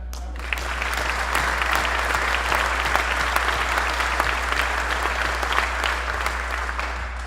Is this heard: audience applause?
yes